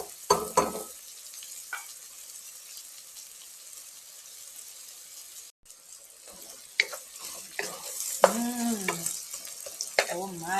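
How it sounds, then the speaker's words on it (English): Scallion and thyme hiss softly in a pot while seasoning rice for Jamaican ackee and saltfish, with a faint steady sizzle, occasional stirring clinks and a running tap near the end, where someone talks briefly. "we're gonna add the scallion, and we're just gonna saute that for just a minute or two"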